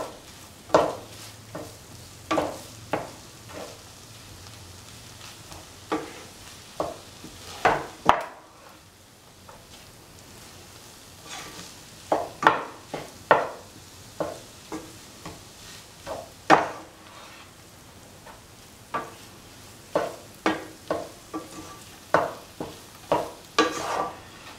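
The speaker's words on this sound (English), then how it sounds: "Until the rice and the tomatoes are evenly mixed." Rice and tomatoes being stirred in a pan for Bombay-style tomato pulao, a steady series of distinct spoon scrapes and knocks against the pan, close and clear, with a brief pause partway through.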